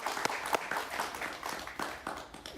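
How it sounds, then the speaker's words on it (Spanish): A studio audience claps for a guest on a Spanish-language interview show, a brief burst of scattered, crisp hand claps throughout. "Un aplauso para él, por favor"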